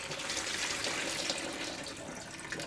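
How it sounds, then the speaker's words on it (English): Water from steamed potatoes pours and drains in a steady, hissing splash, close and fairly soft, with no talking. "We're going to quickly drain off our potatoes."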